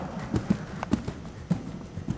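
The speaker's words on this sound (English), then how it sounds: "Got rhythm pull the horse together." Horse hooves strike the ground in a steady, evenly spaced rhythm during show jumping training, each clip-clop close and distinct, about one beat every half second, with no one talking.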